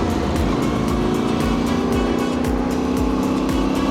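A Yamaha Tenere Extreme motorcycle rides off-road with a steady, loud engine drone and rhythmic pulsing, close to the rider, with no talking.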